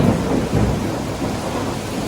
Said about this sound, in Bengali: আজকে অনেক দিন পর এত ধুমায় বৃষ্টি পড়তেছে